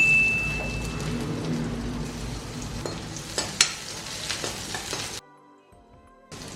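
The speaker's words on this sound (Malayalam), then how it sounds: "ഒരു കഷ്ണം ഇഞ്ചിയും 3-4 അല്ലി വെളുത്തുള്ളി എടുത്തിട്ടുണ്ട്. അത് എണ്ണയ്ക്കകത്ത് ഇട്ട് കൊടുക്കാം." Ginger and garlic dropped into hot oil for an aloo gobi curry sizzle loudly and steadily, with a few clicks of stirring, before the sound cuts to near silence at the end.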